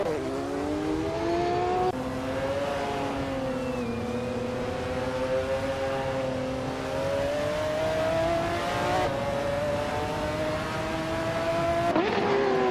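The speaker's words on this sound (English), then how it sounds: "Forzo is driving a Ferrari F50 GT, a car known for its raw speed and aggressive handling" A Ferrari F50 GT racing engine in a video game: a loud, continuous high-revving engine drone whose pitch rises and falls through gear shifts, with a sharp shift near the end.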